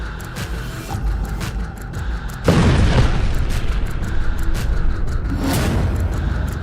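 A heavy boom from an Iranian missile striking central Tel Aviv bursts in abruptly, followed by a sustained loud rumble that lingers over a noisy background.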